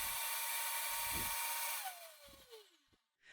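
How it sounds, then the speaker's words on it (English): Blender motor whirring at high speed as it grinds brown rice into flour, a steady loud whine that winds down with a falling pitch and stops near the end. "I grind this in 10-second intervals until I reach the fine consistency that I'm looking for"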